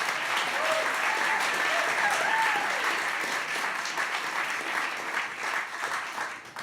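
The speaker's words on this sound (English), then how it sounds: "Give him a round of applause." Theatre audience at a live poetry and comedy show at the Roundhouse, giving a sustained burst of clapping that swells and holds, then begins to thin toward the end, with a few voices calling out over it.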